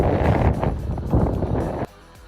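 Wind buffeting a microphone on the summit of Mount Marcy in the Adirondack High Peaks, loud gusty roaring in two surges that cuts off abruptly near the end, no voices.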